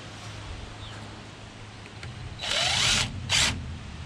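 Power drill with a nut driver sinking a self-tapping screw through corrugated plastic while enclosing a gazebo: two short, loud whirring bursts, the first longer and the second brief, over quiet background.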